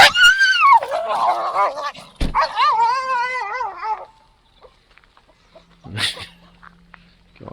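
Several dogs burst out barking and yipping excitedly when let out into the rain, rapid overlapping barks and whines close by, then fading to quiet with a sharp thud and light rustling.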